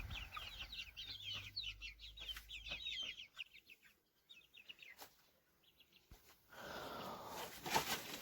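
A flock of about thirty broiler chickens clucks and chirps in a steady, busy chorus at close range, with a rustling broadband burst near the end; no one speaks.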